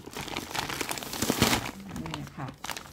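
A plastic bag of packed squid crinkles and rustles as it is handled up close, with short bursts of crumpling and someone speaking Thai over it.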